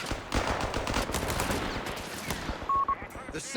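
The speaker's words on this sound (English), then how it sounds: "Now we know that's Fortune's strafe" Dense, rapid gunfire from a strafing run in Company of Heroes 3, a WWII strategy game, rattles loudly and continuously across a 2v2 match, thinning out near the end with a brief tonal beep.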